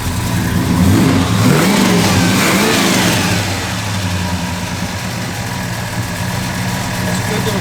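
A 1957 Chevrolet Bel Air engine revs up with a rising, swooping roar, then settles back to a steady, rumbling idle, close and loud.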